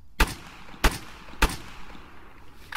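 An AK rifle in Arma 3 fires three sharp, evenly spaced single shots, each a loud crack with a short decaying tail, and no voices are heard.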